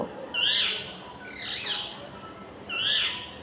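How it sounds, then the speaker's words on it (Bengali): Several bursts of high, bright bird chirping outdoors, each lasting under a second, at a moderate distance over a faint hiss of background noise. "এদিকে পাখি কিচিরমিচির করে ডাকছে।"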